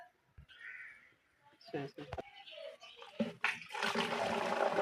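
Water splashes and pours into a pot of thick milk being prepared for custard in a home kitchen, building to a steady gushing rush, with someone speaking over it early on.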